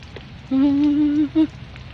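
Steady rain falls over a canal during a fishing trip, a soft broadband hiss throughout, with a loud sustained tonal hum in the middle and a brief second burst of it.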